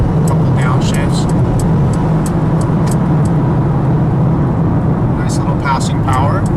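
Engine of a 2020 Mercedes GLB with the 2-liter motor accelerating on the highway through a couple of downshifts, a steady loud drone of engine and road noise inside the cabin.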